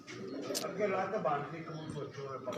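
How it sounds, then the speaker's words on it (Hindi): Rare breeder pigeons on a rooftop coo softly in a close, low murmur, mixed with faint chirps and rustling, while someone talks nearby. "ये एक बड़ा ब्रीडर कबूतर बाहर आया है जी"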